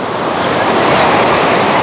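Stormy Black Sea surf at a beach in Anapa, Dzhemete, with waves washing in steadily, loud and close, under a constant wind roar with no voices.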